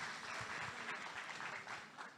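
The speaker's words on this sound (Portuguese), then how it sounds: "Vamos aplaudir esse irmão aqui," A church congregation applauding during a sermon, a steady dense wash of many hands clapping at close range that carries on evenly throughout.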